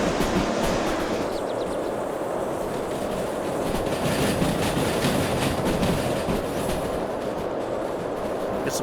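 A steam locomotive in the train-driving game Derail Valley runs steadily along the rails, with a continuous loud rumble, rhythmic wheel clatter and hiss that go on without a break.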